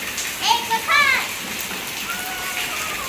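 Heavy monsoon rain falling steadily outdoors, a continuous broad hiss and patter, while children shout and talk nearby over the top of it.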